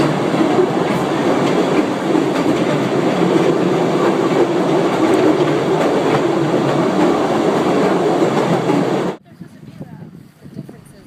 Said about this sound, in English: For a quick trip through, visitors can ride the train.